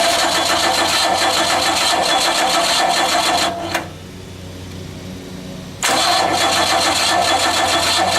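A champ car engine fires for the first time, running loud and rough, then cutting out into near silence for about two seconds before abruptly catching and roaring again.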